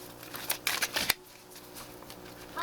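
Oracle cards from a deck are shuffled close up in a quick burst of papery riffles and flutters, followed by quieter handling with no talk.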